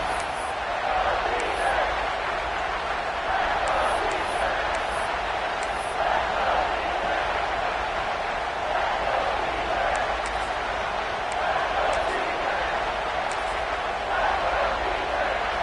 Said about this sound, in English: The Sooner fans booming. A cacophony of noise at the Palace on the Perry on third down.